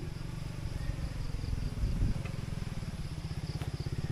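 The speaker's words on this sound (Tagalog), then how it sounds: "So yan, may motor na nakapasok." A motorcycle engine idling or creeping along on a hillside trail, a close, rapid putt-putt pulse with a slight swell midway, steady and moderately loud.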